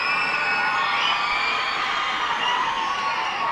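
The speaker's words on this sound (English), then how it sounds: "Crowd is roaring here at the ballpark." A ballpark crowd roars and cheers throughout a minor-league baseball game between the Binghamton Rumble Ponies and Reading Fightin Phils, a loud, steady wash of voices and whoops with no break.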